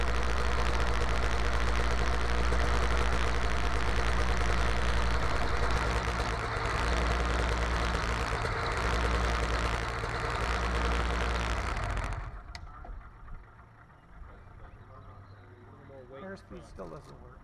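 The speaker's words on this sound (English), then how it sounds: "taxi right up to the hangar so that we can shut down the engine." A light aircraft engine, an EMG-6 250, drones loudly at idle for about twelve seconds with dense low rumble, then cuts out abruptly at shutdown, leaving quiet background with faint scattered sounds.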